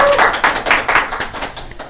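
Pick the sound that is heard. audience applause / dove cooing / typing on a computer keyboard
audience applause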